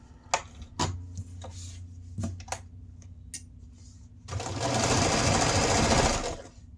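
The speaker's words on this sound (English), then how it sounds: "And just keep sewing along." A sewing machine stitches through layers of fabric for a silverware holder: a few separate clicks and taps, then a loud, steady whirring run of stitching for about two seconds.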